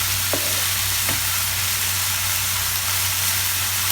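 Ground pork fries steadily in a pan with a loud, dense, continuous sizzle. A low hum from the stove sits underneath, and a couple of faint stirring taps sound near the start.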